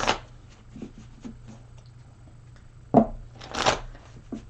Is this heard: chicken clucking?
no